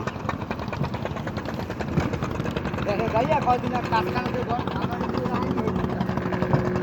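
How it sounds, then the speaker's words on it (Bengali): A sampan's motor drones steadily mid-river at Sadarghat, a close, continuous engine chug with a voice speaking over it. "আমার সাম্পান ভাই নৌকা চালাচ্ছে।"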